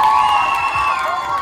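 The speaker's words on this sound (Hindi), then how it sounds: "इन्हीं शब्दों के साथ जोरदार तालियों के साथ" Crowd cheering and shouting to welcome performers at a community event, a loud sustained roar of voices with a few high whoops rising above it, all close and continuous.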